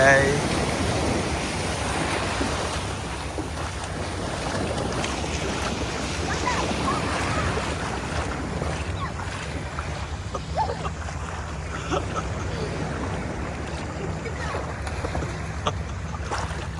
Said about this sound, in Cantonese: 再深啲就冇咁大浪噶咯嗰個喎